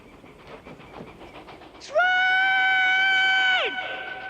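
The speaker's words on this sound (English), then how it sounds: "Train!" A train from the film Stand By Me approaches: after faint rustling, a loud, sustained horn blast holds steady for under two seconds before dropping away, leaving quieter rumbling behind.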